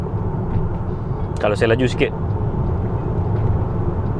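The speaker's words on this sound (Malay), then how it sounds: "Jalan yang diturap tak berapa cantik ni bunyi dia macam ni." Constant low rumble of tyre and road noise inside a Hyundai Santa Fe travelling over a poorly paved road at around 100 km/h, continuing steadily beneath a brief spoken remark.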